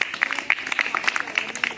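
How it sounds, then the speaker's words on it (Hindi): Children applauding together in a classroom gathering, a dense patter of small-handed claps, close and lively throughout the short burst. "उसके लिए हाथ ताली बजाएंगे।"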